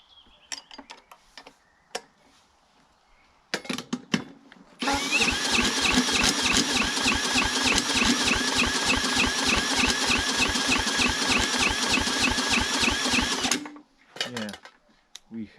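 A heavily oiled two-stroke lawnmower engine from a scrapyard is cranked with a drill and sputters into a loud, steady buzzing run for about nine seconds, with short bursts of cranking and clatter before and after.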